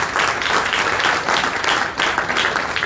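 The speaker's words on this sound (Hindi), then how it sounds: "ये क्लैपिंग बहुत करा रहे हैं ना, तालियां बहुत बजवा रहे हैं" Dense, steady applause from a seminar audience in Aligarh, loud and continuous throughout with rhythmic surges of many hands clapping together, no talk over it.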